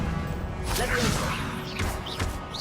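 Levioso spell cast in Hogwarts Legacy: short swooshing whooshes and soft thuds sweep through a dense layer of game ambience, close and fairly loud over under three seconds.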